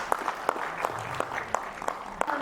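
An audience at an awards ceremony for film-making honours gives a fairly faint round of clapping, with sharp individual claps standing out at intervals over a softer patter, fairly distant.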